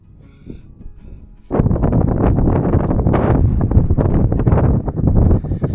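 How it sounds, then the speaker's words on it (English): Strong gusty wind above the Arctic Circle on an ice-fishing trip buffets the microphone with a loud, roaring rumble after a quieter start. "It's so windy here"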